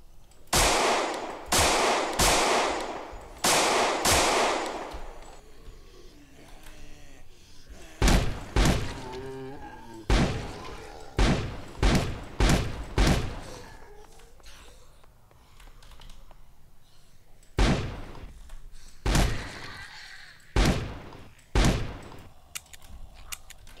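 Gunfire in the zombie survival game Project Zomboid: loud repeated shots, some in quick bursts and others spaced singly, ringing out close and sharp over a long stretch with little else between them.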